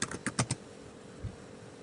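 A computer keyboard being typed on for a search, a quick burst of four or five close key clicks followed by one soft tap after a short pause.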